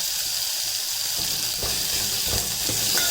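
Green chilies and curry leaves drop into hot oil and sizzle loudly, with a steady close frying hiss and a few crackles and stirring sounds.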